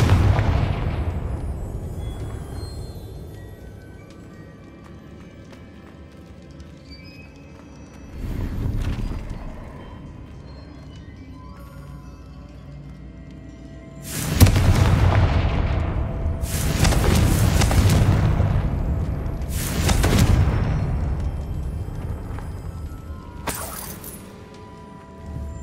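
Spell blasts from the Confringo curse in Hogwarts Legacy go off as several loud, booming explosions, spaced apart and separated by quieter ambient game sound.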